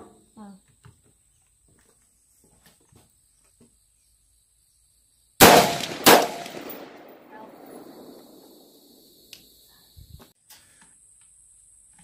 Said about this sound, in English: Keep shooting until it goes out.